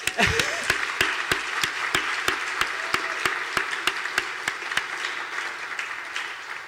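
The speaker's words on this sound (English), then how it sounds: "let's give them a round of applause" An audience at a research administration meeting applauds award recipients, with a few sharp, distinct claps standing out over a steady bed of broader clapping that holds evenly throughout.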